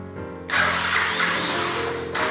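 A Honda 250SX engine, jump-started from a Honda Civic, cranks with a loud, close starter whir that cuts in after a quiet low hum and grinds on steadily for more than a second and a half, with no talking.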